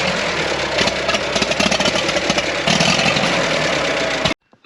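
Old tractor engine at a tractor show running roughly, a loud close uneven chug with irregular knocking pulses and a dip partway, cutting off abruptly into silence near the end.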